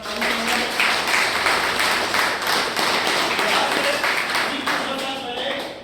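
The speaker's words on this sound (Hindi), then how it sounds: "एक बार उनके सम्मान के लिए जोरदार तालियां" A seminar crowd claps loudly and continuously for several seconds, a dense, even wash of many hands with a voice partly heard beneath it.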